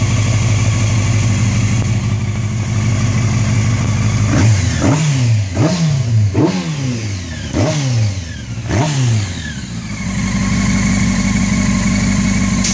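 Honda CBR 600 F4i stunt motorcycle engine idling loudly up close, then five or six sharp throttle blips rising and falling in quick succession before settling back to a steady idle.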